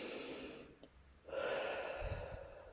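Slow, deep breaths drawn in and let out, a soft airy inhale followed by a fuller, louder exhale close to the microphone, with no talking.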